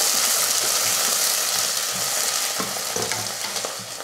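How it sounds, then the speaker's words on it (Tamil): Onions sautéing in hot oil with cinnamon, cardamom, cloves and bay leaf, a steady close sizzle with scattered stirring scrapes and clicks throughout. "வெங்காயத்தை நல்லா வதக்கிடுவோம்."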